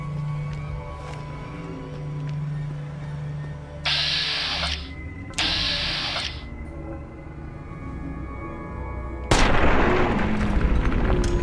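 Gunfire from the video game Fallout: New Vegas: three sharp bursts, two close together around the middle and a louder one near the end, over a steady background of game ambience and music.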